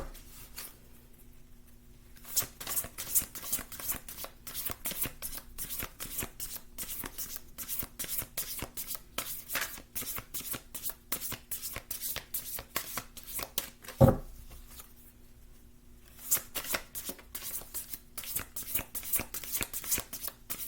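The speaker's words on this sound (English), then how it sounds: "So let's go ahead and do a shuffle" A deck of tarot cards is shuffled by hand in long runs of rapid riffling clicks, with a brief pause and a single thump midway, close and fairly quiet.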